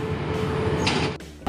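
Train 986 rolls in on the adjacent track in Thailand, a low, close mechanical rumble with a droning engine tone that cuts off abruptly, and no one speaking.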